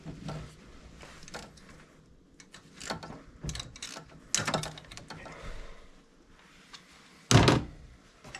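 A ratchet loosens a bolt on a Dodge Durango during a cylinder 7 misfire repair, with quiet scattered clicks and metallic clunks in an uneven rhythm, then one heavy thunk near the end.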